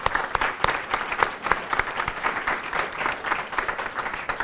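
Sustained applause from an event audience at a university sustainability institute's anniversary celebration, dense, steady clapping filling the room right after a sponsor is named, with no talk over it.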